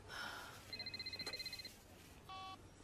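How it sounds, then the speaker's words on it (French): A telephone rings in a French-dubbed American romantic film scene: a fairly faint, pulsed electronic ring lasts about a second, then a short steady tone follows, with quiet room ambience around it. "C'est mon téléphone."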